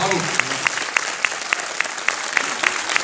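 An audience applauding comedian Kev Adams at a show in Brest: sustained loud applause with a few sharper claps cutting through in a regular, almost rhythmic beat.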